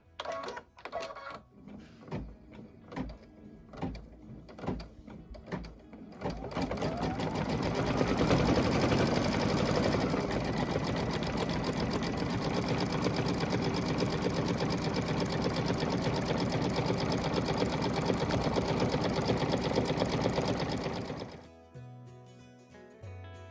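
An embroidery machine sews a satin stitch in champagne thread on a roof design, beginning with a few separate mechanical taps before settling into a loud, steady, rapid stitching drone that stops abruptly near the end.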